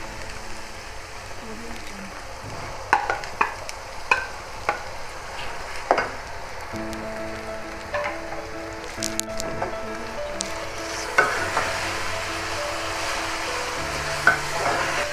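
Minced meat fries in a pan with tomato and green chili paste, giving a steady sizzle under repeated stirring scrapes and taps. A voice speaks at times over the cooking.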